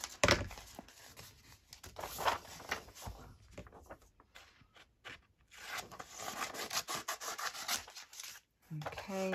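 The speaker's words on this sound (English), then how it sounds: "Just trim off the excess." A craft cutter trims excess paper on a handmade journal page with scratchy rubbing and slicing strokes. The strokes come in uneven bursts with short quiet gaps and stay close but faint.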